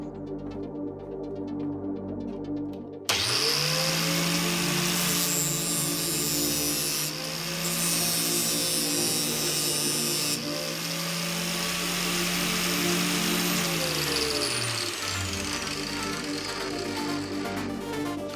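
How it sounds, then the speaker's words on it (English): An angle grinder spins up and bites through rebar, a loud, steady high whine with a grinding cutting tone held for about twelve seconds before it winds down, close by with no talking. "Let's cut the rebar."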